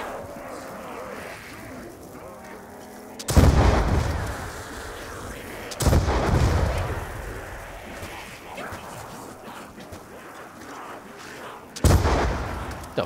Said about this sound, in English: It seemed like my RPG just blew up in my face